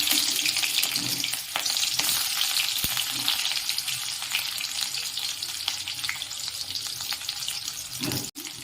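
Onions frying in mustard oil, with mustard seeds already popping in the hot pan, give a steady, loud sizzle that runs throughout, with a few brief clinks of a utensil against the pan and no talking.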